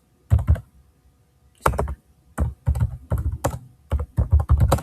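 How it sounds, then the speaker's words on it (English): Computer keyboard typing a search query, heard as several bursts of quick, close key clicks separated by short pauses, with no talking. "I type smartphone Galaxy here"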